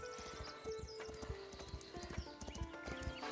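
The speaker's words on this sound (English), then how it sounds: "The horsey." Horse hooves clip-clop in a steady rhythm in the medieval building game Foundation, close and clear over a faint tonal game soundscape, with a brief whinny-like texture.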